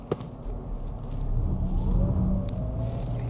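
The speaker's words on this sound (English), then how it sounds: "So press on the gas pedal. You see? The car would actually go very gentle and slowly, just like this." A car drives gently and slowly uphill after the gas pedal is pressed, giving a steady low engine rumble that swells slightly as it climbs, with faint road noise and no talking.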